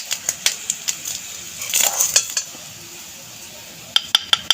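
Onion, fried till deep red, and other ingredients for a chicken bharta being ground on a shil-bata grinding stone, heard as a run of sharp clicking knocks of stone on stone, then a brief scraping rub and a few more knocks.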